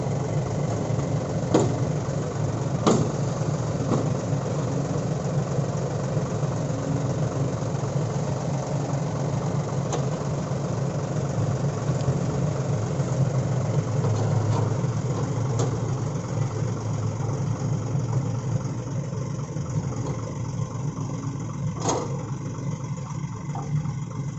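A small excavator's heavy diesel engine drones steadily at a distance for a long stretch while pushing a tractor stuck in mud, a low constant rumble with occasional faint clanks.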